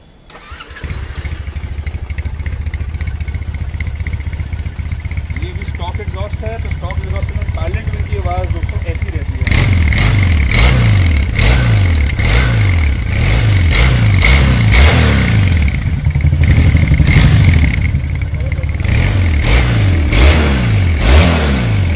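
Triumph Bonneville T100 motorcycle engine cranks and starts, settling into a steady idle before loud, repeated revving bursts take over; people talk nearby throughout.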